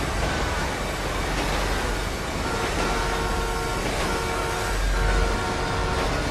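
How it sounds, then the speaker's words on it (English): A train passes in Grand Theft Auto V, a loud steady rumble of wheels and engine with a horn-like tone sounding over it, close and continuous throughout. "Oh man, I missed the train."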